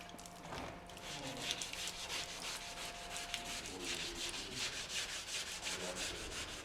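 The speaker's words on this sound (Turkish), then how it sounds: "Son zımpara yapılıyor arkadaşlar. Su zımparası." Wet sandpaper rubs back and forth over filler on a car's bodywork, a steady rhythmic scrubbing at close range with faint background noise.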